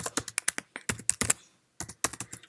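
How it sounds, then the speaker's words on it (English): Fingers tap out an email on a Mac computer keyboard, a close run of crisp key clicks with a brief pause midway before the typing resumes. "Let's now go into the email and type Dear CSV."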